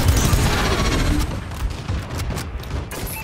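Bombing run explosions in Call of Duty Advanced Warfare, a heavy rumbling barrage of blasts and rapid gunfire, loudest at first and then thinning into scattered booms.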